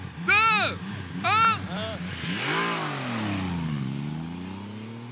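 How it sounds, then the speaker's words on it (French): A Triumph Rocket 3 motorcycle with a stock 2.5-litre engine revs up and accelerates, its rising, drawn-out engine note holding strong after brief voices are heard at the start. "C'est Triomphe Rocket 3, une des motos les plus lourdes et surtout strictement d'origine."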